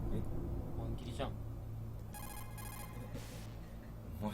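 A telephone rings in two short bursts of bright electronic trilling, set against a busy background murmur with voices around.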